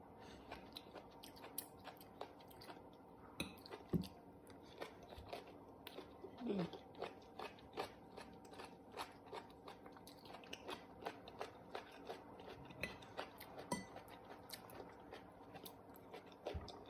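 Someone chews crunchy curry coconut broccoli close to the mic: quiet, repeated crisp bites and mashing in an irregular rhythm, with faint background shuffling.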